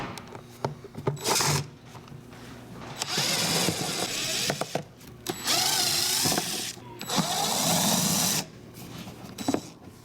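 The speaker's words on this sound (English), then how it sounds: "with a T25 Torx bit, you're going to remove the screws which secure the 2 halves of the airbox together" Power driver with a T25 Torx bit backs out the screws holding the two halves of a BMW E90 airbox together, making several bursts of high whirring spin separated by short pauses and small clicks.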